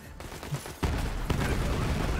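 A grenade explosion in the video game Borderlands, a sudden heavy blast that jumps in loudness and rumbles on with further bursts of gunfire, dense and loud.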